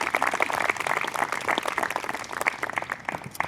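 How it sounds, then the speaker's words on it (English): Crowd applause at a Harwich Town Band outdoor concert, a dense, steady wash of many hands clapping close by, continuing without a break. "How about a nice round of applause?"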